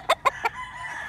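A fighting rooster of the Black Mamba sweater line gives three short, fairly faint calls in quick succession, then quiet background.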